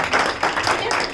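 Audience clapping at a drama and art education workshop closing ceremony, a brief burst of dense hand claps filling the hall at steady volume.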